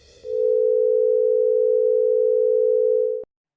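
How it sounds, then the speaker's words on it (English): A steady combined tone of 440 Hz and 500 Hz sine waves added together, sounding as a single loud sustained pitch with a slow beating pulse, holding evenly for about three seconds before cutting off abruptly. "Here's a 440 hertz sine wave plus a 500 hertz sine wave."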